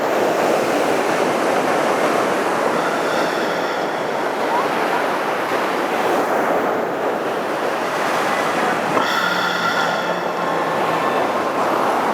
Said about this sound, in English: Taking in the sound of the ocean.